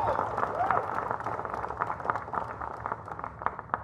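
Applause for the media and journalists at a press conference: a steady, moderate crowd clapping that carries on throughout.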